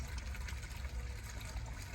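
Water from a small waterfall trickles and splashes steadily in the background, a soft continuous wash with no talking over it.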